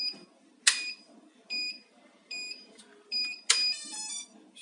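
Lego Technic radio control equipment emits a switch-error alarm: repeated high, thin electronic beeps in short bursts, some sharper clicks among them, fairly quiet with no speech.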